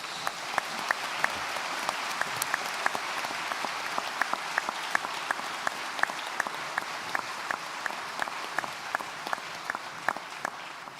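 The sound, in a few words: audience applause for award winners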